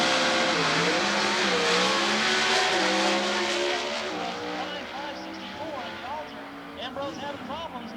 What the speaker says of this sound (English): Krishner legging it on through at 857, speed of 142 miles per hour.